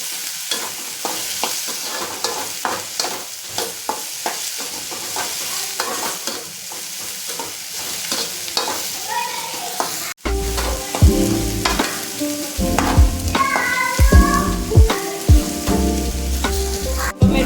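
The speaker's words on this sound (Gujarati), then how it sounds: "પણ એકદમ રીતે તેલમાં ફ્રાય થવા માંડ્યું છે" Potato, onion and tomato fry in hot oil in a pan, spicy Maggi in the making, with a steady sizzle and repeated scraping stirs; after a brief pause the sizzle grows louder and fuller, with no talking.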